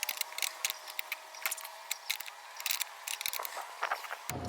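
A ratcheting wrench loosens the 12 mm nuts holding a leaking brake master cylinder to the brake booster, producing rapid, close, fairly quiet clicking bursts in an irregular rhythm, followed by a short thump at the end.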